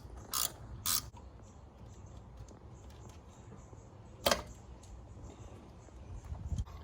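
Short bursts of ratchet clicking sound up close as a 10mm bolt is loosened on the 3.8 V6 engine of a Genesis Coupe, separated by quiet pauses and a few faint clunks.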